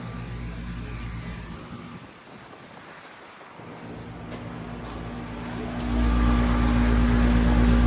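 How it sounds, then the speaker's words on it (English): A 2004 Lennox Elite series 2.5 ton central air conditioner runs with a steady outdoor fan-motor hum and airy rush, dipping briefly and then growing louder and fuller toward the end. "So yeah, there's the fan motor."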